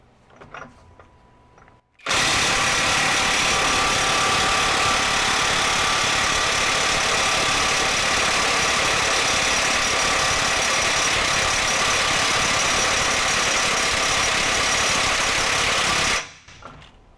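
A Hercules HCB85B 20V brushless impact wrench hammers hard at a stuck bolt, a loud continuous rattling whine that starts abruptly and holds steady for about fourteen seconds before cutting off, close and alone.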